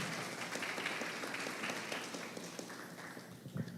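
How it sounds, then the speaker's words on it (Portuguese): A church audience claps for invited guests at a gathering on eschatology, a continuous moderate patter of many hands that thins slightly toward the end. "Salva de palmas para os nossos convidados."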